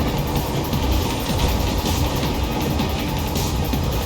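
Steady rumbling clatter of a moving train in Metal Gear Rising, loud and continuous throughout, with dense low-end rumble and rhythmic rail clicks and no voices.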